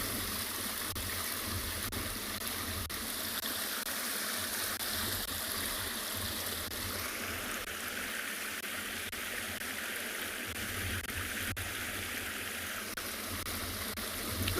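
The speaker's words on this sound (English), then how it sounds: "Running water is definitely one of these sounds that relaxes me." Water runs steadily at a dam in a South African wildlife setting, a continuous rushing flow heard from a distance at even volume with no voices.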